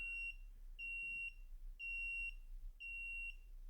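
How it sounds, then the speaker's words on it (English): A multimeter beeps while testing a 9V/12V 1A UPS battery-backup board: four even, high-pitched beeps about half a second long, one each second, close and clear over a faint background hum. "What is that beeping?"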